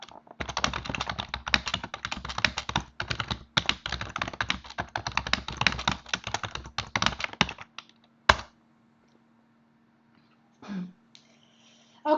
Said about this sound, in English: Let me just type here.